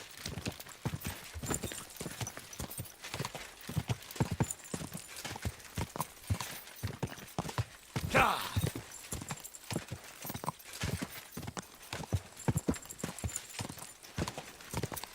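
Horse hooves clip-clop steadily and evenly on the ground in Kingdom Come Deliverance 2, a continuous walking rhythm with a brief whinny-like burst midway.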